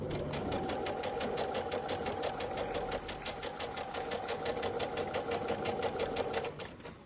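A sewing machine runs steadily for about seven seconds, stitching a seam one centimetre from the edge of fabric pieces placed right side to right side, its rapid needle chatter even and close.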